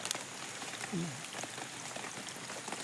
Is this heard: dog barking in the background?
no